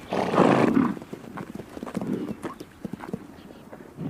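Przewalski's horses move nearby, hooves clopping irregularly over the ground, with a loud rustling snort or blow at the start and quieter shuffling afterward.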